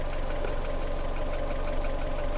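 A troublesome Fiat 500 engine idles at its minimum speed with leaked fluid burning off, producing a steady, continuous low rumble with a faint knocking texture, close and unbroken, with no talking.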